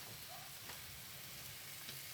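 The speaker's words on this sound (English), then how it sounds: "Is there anything more beautiful than a sizzling Boerewors on a hot toast?" Steady, dense crackle of boerewors sausage sizzling in a hot pan, a continuous hiss with faint pops, heard close up with no voices.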